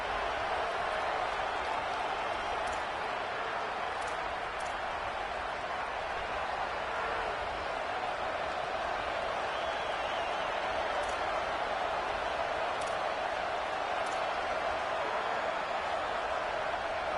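Stadium crowd at an NCAA football game roars steadily on a third-down defensive stand, a dense, sustained wall of cheering noise that holds throughout with no individual voices standing out.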